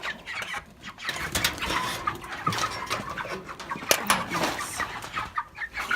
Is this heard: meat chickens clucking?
yes